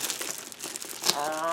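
A mail package being cut and torn open by hand, with close crinkling and rustling of packaging that stays steady at low volume while a voice briefly talks near the end.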